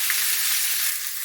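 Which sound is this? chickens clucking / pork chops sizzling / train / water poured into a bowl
pork chops sizzling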